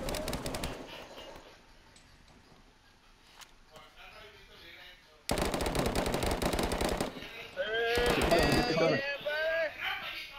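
Video-game gunfire from inside a store: loud rapid automatic bursts in two long volleys separated by quieter gaps, with players talking over the action.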